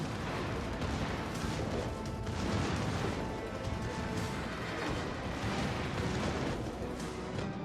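Battleship main guns fire in the naval combat game World of Warships: Legends, giving dense, rumbling booms and crashing blasts that overlap in a continuous, fairly quiet barrage with no clear pauses.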